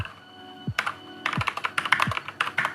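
Rapid clicky keystrokes on a Keychron K8 mechanical keyboard, close up, in quick irregular bursts with a few pauses and faint low thumps.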